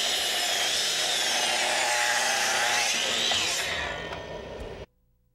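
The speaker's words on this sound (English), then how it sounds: "The Makita 10-inch dual slide compound miter saw" A Makita 10-inch dual slide compound miter saw cuts with a loud, high whining blade that spins down and cuts off abruptly near the end, leaving near silence.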